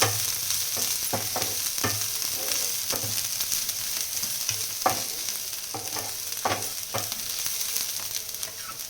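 Crushed ginger and garlic fry in a gravy with a constant crackling sizzle, punctuated by frequent spatula scrapes and taps against the pan at an uneven rhythm, close and clear with no talking.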